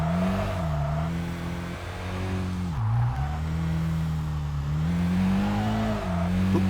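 In the Kaido Racer 2 racing game, a Laurel sedan's engine drones loudly, then drops in pitch as it brakes hard with a brief tire squeal before revving back up. The sound is continuous and up close, with no talking.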